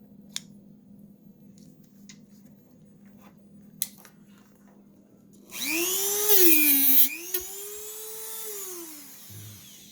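Dremel rotary tool grinding excess midsole from a tan Nike Air Yeezy 1 sneaker during a sole swap. A few quiet handling clicks come first, then a loud, close, high-pitched whine that rises and dips in pitch for several seconds.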